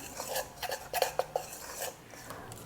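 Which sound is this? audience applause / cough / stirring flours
stirring flours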